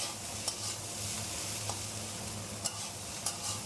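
Steady sizzling of food frying in a pan, with a few sharp scraping clinks of a spatula stirring now and then.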